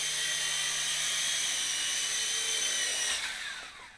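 A Hubsan H205B toy RC helicopter comes in to land, its steady high-pitched rotor and motor whine holding close and even before slowing and fading out in the last second.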